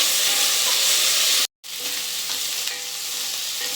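Tomato and onion fry in a pan for a sprouted beans sambar, a steady close sizzle with stirring scrapes, briefly cut by a short silence before the sizzling resumes.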